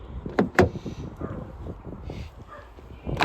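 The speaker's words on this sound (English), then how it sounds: "Back doors, passenger doors locked." Kia e-Niro's rear and passenger doors locking: two sharp, close clunks in quick succession near the start, followed by quieter rustles and shuffling and another click at the end, with no speech.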